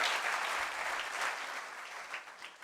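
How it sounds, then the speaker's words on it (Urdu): A congregation claps steadily during a church worship service, a dense, sustained round of applause from a fairly close crowd with no talking over it. "اب اسی پہ زیادہ تالیاں بجا دیں"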